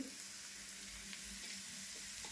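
Softened onion with turmeric, red masala and Malvani masala sautéing in a pan, a quiet, steady sizzle with faint stirring, no talk.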